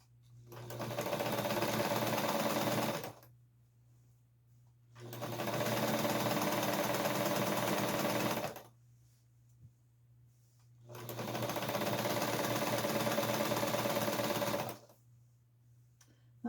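A sewing machine stitches straight seams on a scrappy Christmas tree skirt, running in three steady buzzing bursts of a few seconds each, with short quiet pauses between them and a low steady hum throughout.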